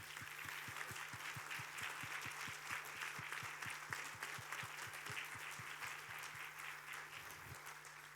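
A crowd at a community radio awards ceremony claps in a steady, even wash of applause, faint and slightly distant, under a low continuous hum with regular ticking pulses.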